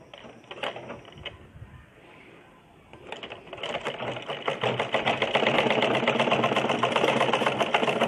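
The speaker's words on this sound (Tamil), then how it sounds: "திருப்பி அடுத்த துணி எடுத்து இப்படி போட்டு தைங்க" A sewing machine stitches cross-cut blouse fabric with a cross piece, giving a rapid rhythmic clatter. Brief taps and a pause come first, then a steady run of stitching builds louder and continues to the end, close by.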